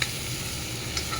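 Food frying in a pan after salting and stirring, a steady close sizzle with faint stirring scrapes and no talking.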